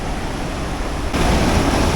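River water rushing loudly and continuously in a remote valley near El Cocuy, Boyacá, Colombia, a dense close roar that swells a little louder partway through.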